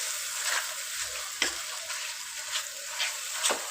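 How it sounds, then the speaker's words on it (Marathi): Cooked vegetables and tomatoes for pav bhaji being mashed in a pan with a hand masher, giving soft squelching presses and a few sharper knocks at irregular intervals, close and fairly quiet, with no talking. "त्या खूप छान असं मॅश करून घेऊया मॅशरने"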